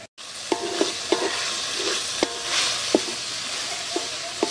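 Food fries in a pan with a steady close sizzle, broken by regular scraping clinks of a spatula stirring, about every half second, with no voices.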